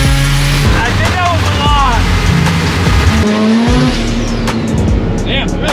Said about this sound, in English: that pop on limiter sounds good